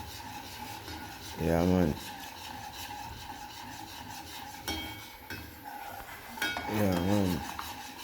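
A seasoned meatloaf mixture stirred in a pot, giving a continuous scraping and rubbing with a utensil and light clinks against the pot, with someone speaking briefly twice over it.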